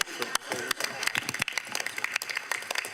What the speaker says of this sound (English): A round of applause, please, for Ming.